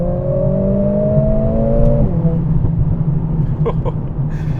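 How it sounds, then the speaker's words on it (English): Mercedes CLA45s AMG pulling away from a standstill, engine note climbing loud and close through the gears with a brief dip at a shift, steady road roar beneath. "Should we have one more acceleration from standstill?"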